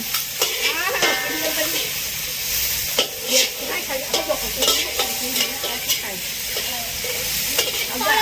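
Thai fried mussel pancake (hoi tod) is stir-fried in a pan at a street stall, giving a steady loud sizzle with repeated scraping and clanking of a metal spatula.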